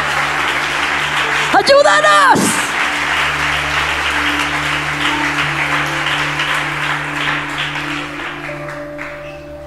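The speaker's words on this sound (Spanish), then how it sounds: "Aplauda al Señor." Broad, steady applause from a church congregation fills the whole stretch, with a brief sharp rising tone early on and a sustained low hum underneath.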